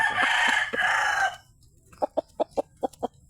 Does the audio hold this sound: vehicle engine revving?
no